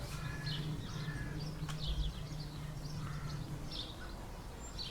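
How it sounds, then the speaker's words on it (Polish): Scattered bird chirps and calls carry over a quiet open field on a summer night, faint and intermittent above a low steady hum. "Czasami aż dziwnie jest przez te ptaki, no nie?"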